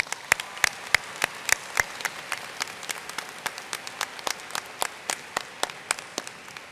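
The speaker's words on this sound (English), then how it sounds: "Please join me in applauding these special guests." Audience at a Harpur College of Arts and Sciences commencement applauds special guests, a steady patter of separate claps from a modest crowd, fairly close and even, with no voices over it.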